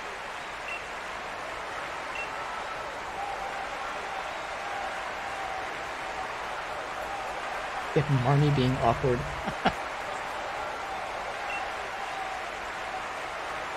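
A large stadium crowd in the Pokémon Sword role-playing game cheers and applauds steadily as a broad, even roar throughout, with someone talking briefly over it partway through.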